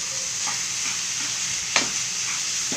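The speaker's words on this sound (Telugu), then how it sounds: "ఇలా బాగా మిక్స్ చేసుకుంటూనే ఉండాలి ఫ్రెండ్స్" Beetroot halwa with sugar being stirred in a pan, a steady soft sizzle with a few scraping spoon strokes, one sharper scrape standing out near the middle, close and moderate in level with no voices.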